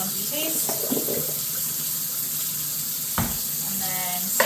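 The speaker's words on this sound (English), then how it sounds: "we're just going to give these guys one more really good rinse" Strawberries that were soaked in vinegar rinsed under a running kitchen tap, a steady close stream of water with occasional splashes and clatters as the berries are handled.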